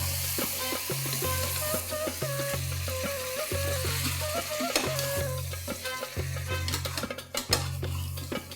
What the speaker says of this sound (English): I'm going to now saute this till the oil separates.